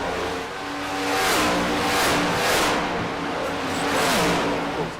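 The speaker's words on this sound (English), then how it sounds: "look how them cars are dancing around coming out of the pole" Race cars pull away from pole position at a Hide Cup Series event, engines swelling and revving in repeated surges as several cars pass close by, loud and continuous with overlapping whine.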